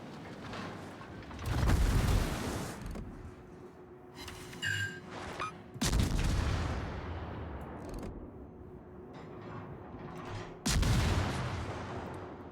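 Heavy naval guns boom in a video game sea battle, firing on the ship St. Vincent: three loud, deep blasts spaced a few seconds apart, each rolling off into a long fading rumble, with faint mechanical clatter between.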